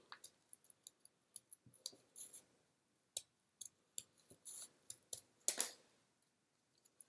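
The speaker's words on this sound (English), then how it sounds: "So I'm going to take my scissors and we're going to go ahead and cut that out." Quiet, crisp snips of scissors cutting paper, a series of short irregular clicks and crunches close by with silent gaps between.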